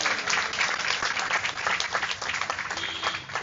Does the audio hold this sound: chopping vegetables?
no